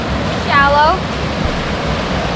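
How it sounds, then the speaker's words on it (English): A waterfall in a forest in Bankhead National Forest, Alabama, roars as a steady, loud wash of rushing water, with a brief high whistle-like sound near the start. "We found 2 waterfalls now."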